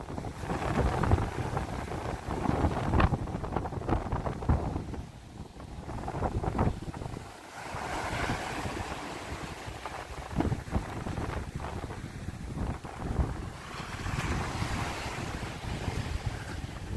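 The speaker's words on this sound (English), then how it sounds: "Beautiful sounds of the ocean waves" Ocean waves driven by nor'easter winds at Manhattan Beach, Coney Island, Brooklyn: continuous loud surf and roaring gusts buffeting the microphone, with swelling crashes rising and falling over the whole stretch and no talking.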